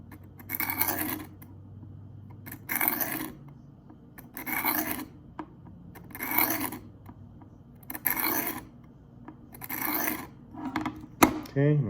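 A knife sharpened on a Work Sharp field sharpener, six evenly spaced rasping strokes about two seconds apart, close and crisp, ending with a small metallic clink.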